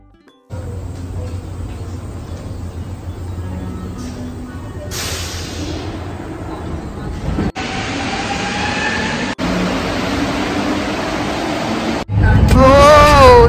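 A Montreal metro train in motion gives a steady, loud rumble with a few abrupt jolts and shifts in tone. A rising, wavering motor whine comes in near the end, and faint voices may sit under the noise.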